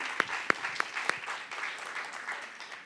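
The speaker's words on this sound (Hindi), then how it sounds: "जोरदार करताली" A small crowd claps, a few sharp louder claps standing out at first, then a steady patter of applause that fades slightly, at an Odissi dance performance.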